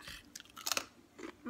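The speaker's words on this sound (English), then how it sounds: "I love that it's crunchy." Faint close crunching bites and chews on a raw banana pineapple cracker, a few brittle crackles over about a second and a half.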